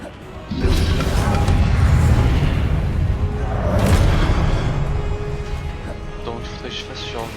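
A spell is cast in a Harry Potter video game, making a loud crashing boom with a whooshing swell that fades over several seconds, with game sounds and a voice in the mix.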